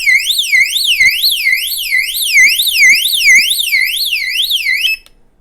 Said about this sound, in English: So they flash, and then they're supposed to make a siren sound or something.